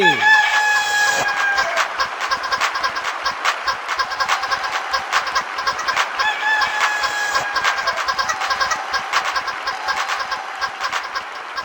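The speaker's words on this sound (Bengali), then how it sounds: "শত শত মোরগ মুরগি দর্শক শ্রোতার হাতে, একটুখানি তুলে ধরুন উল্লাসের সাথে" Hundreds of roosters and hens held up by a studio audience during a televised Eid show, a dense, continuous chorus of crowing and clucking filling the hall with steady, overlapping calls.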